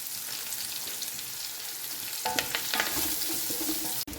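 Kashmiri chillies and curry leaves hit hot oil for a pickle, a soft steady sizzle turning into louder crackling and spattering as they fry, close up with a brief stir clatter.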